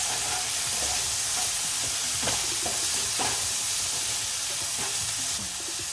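Poha with spices fries in a pan, a steady close sizzle with a few soft stirring clicks and scrapes throughout, no voice over it.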